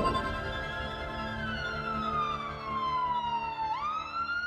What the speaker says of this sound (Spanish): Cuando una ambulancia se acerca a nosotros, la longitud de onda de la sirena se comprime.